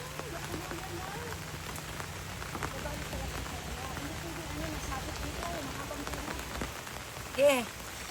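Rain falls on a farm field, a steady soft patter with scattered drops and a brief louder thump near the end, while people talk quietly underneath.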